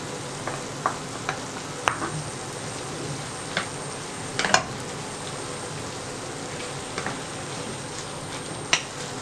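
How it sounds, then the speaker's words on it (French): Minced meat with mushrooms and onion stirred in a frying pan, a steady sizzle punctuated by spatula scrapes and clicks at irregular intervals, no speech. "On mélange la viande avec les champignons et l'oignon"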